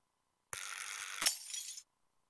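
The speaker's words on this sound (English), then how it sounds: "Then I layered it with the glass shattering." A sharp crash of breaking glass, followed by a second impact and about a second of tinkling, scattering shards before it cuts to silence.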